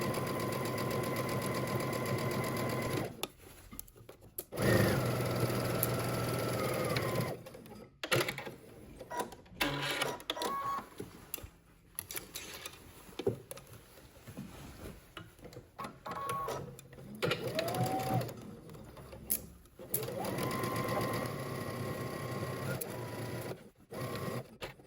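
A sewing machine stitches across both shoulder seams of a jacket at a 5/8-inch seam allowance, running in steady mechanical bursts with short pauses between passes, close and fairly quiet.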